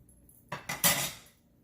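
Spoon stirring browning sauce through a pot of chicken and sausage pastalaya, three quick scraping clinks of metal on the pot, the last one longest, close and clear with no talking.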